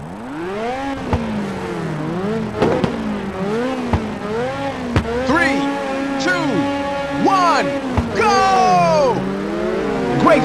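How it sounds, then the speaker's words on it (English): Several race car engines rev and whine in a racing video game on a canyon road course, loud, close pitch sweeps rising and falling over one another as gears shift, with a few sharp clicks among them. "Now start your engines and get ready."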